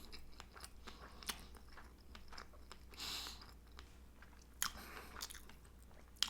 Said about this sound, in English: That was a pretty big bite.